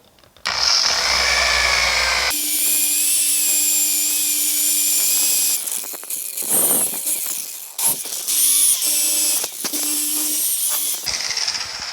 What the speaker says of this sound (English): I'll just spread the compound around here a little bit, and we'll go over and do right here at the roll too